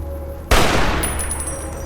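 A sudden loud burst of gunfire in Fallout New Vegas, a sharp blast followed by a rolling, decaying roar and faint ringing tones, with no speech.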